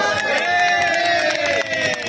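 A large crowd at a roadside political rally in Delhi makes a dense, continuous wash of noise that sounds like loud clapping and cheering. It is steady and near throughout, with bright overlapping tones running through it.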